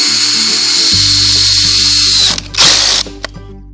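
Impact driver screwing into a shack floor, a loud steady whirring ratchet that runs for a couple of seconds, then breaks into short bursts and stops, close up.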